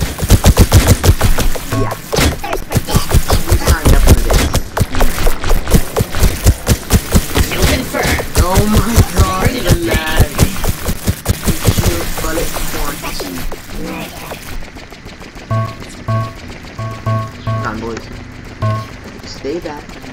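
Rapid bursts of video game gunfire from Bot Wars crackle loud and dense through the first half, with excited talk over them, then thin out into sparser shots and game sounds later.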